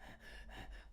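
A voice imitates sharp, gasping breaths, two or three quick strained inhalations heard close and quiet with no words.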